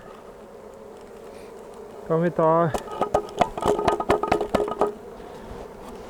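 Honeybees buzz as a nucleus hive and its mating box are opened, with a steady hum underneath. A brief voice is followed by a cluster of sharp knocks and clatters from handling the hive.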